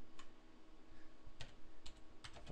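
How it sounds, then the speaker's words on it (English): Someone types on a computer keyboard with one hand, giving a few scattered, uneven clusters of soft key clicks over quiet room noise. "I'm typing with one hand"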